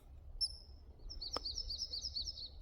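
A bird gives a thin, high whistled call followed by a rapid warbling chirp, clear against a quiet background.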